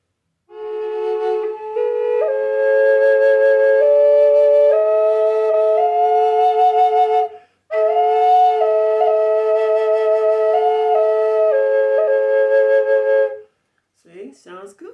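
A double drone flute plays a sustained melody over a steady drone, clear and close, in two long phrases separated by a short breath pause, ending with a brief spoken voice.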